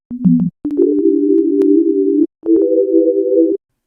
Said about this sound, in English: So then we get a sine wave.